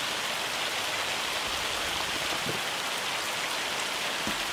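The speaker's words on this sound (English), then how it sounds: "So yeah, I guess we're going to wait this hailstorm out." Hail pours down during a storm in the farming video game Farming Simulator 25, a steady dense hiss of pelting ice on surfaces, loud and unbroken, with no voices.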